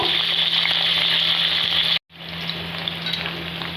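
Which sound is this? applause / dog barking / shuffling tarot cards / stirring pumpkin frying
stirring pumpkin frying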